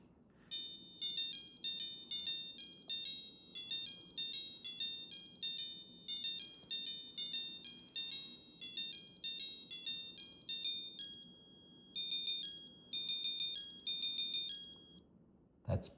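Casio Melody 30 alarm module playing Latin song melodies, a bright electronic beeping tune in quick repeated phrases with short pauses, loud and close, alone without voices.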